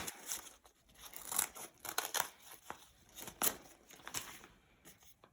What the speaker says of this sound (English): I'm going to take my newspaper and I'm going to cut one strip